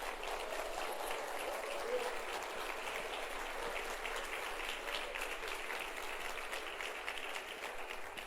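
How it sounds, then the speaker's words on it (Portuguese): A church congregation claps through a worship service, producing a steady, dense wash of applause that stays even from start to finish, with distant voices faintly mixed in. "Pode dar uma salva de palmas, Senhor Jesus."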